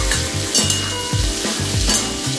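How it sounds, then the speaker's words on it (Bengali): Turmeric and salt frying in a covered pan, a steady close sizzle broken by repeated stirring scrapes roughly every half second, loud and continuous with no voices. "এর মধ্যে সামান্য আমি একটু হলুদ আর একটু সামান্য নুন দিয়ে চাপা দিয়ে এগুলো ভেজে নেবো"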